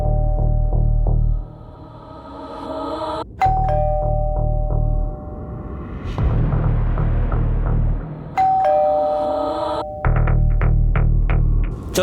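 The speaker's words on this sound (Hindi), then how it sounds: "बस डोरबेल बजी।" A doorbell chimes twice, each a ringing two-tone ding-dong over a low steady hum, with a rumbling pause between the rings.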